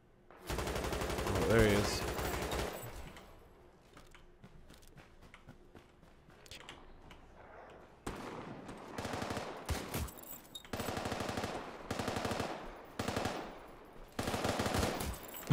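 Repeated gunfire bursts in a first-person shooter game, loud and clustered, with a player speaking briefly over the shots.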